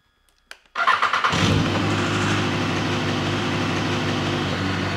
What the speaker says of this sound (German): Jetzt starten wir einmal die Maschine.